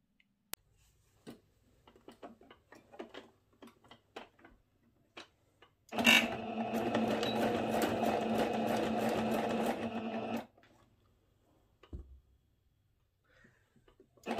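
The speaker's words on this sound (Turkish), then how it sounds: "Bir makine ayağıyla dikiyorum." Sewing machine stitching patchwork from scrap fabric, running steadily for about four seconds after scattered light taps and handling clicks, close and fairly loud, then stopping.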